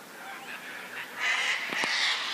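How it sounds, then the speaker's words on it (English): Cockatoos squabble and roosters crow in the branches, a continuous bed of harsh squawks and honking calls at middling distance, with a couple of sharper cries near the end. "hear there's plenty of cockatoos fighting and cocks crowing and things"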